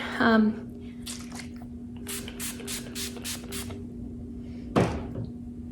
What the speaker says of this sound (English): I'm gonna go get my rose water and I'm gonna spray it.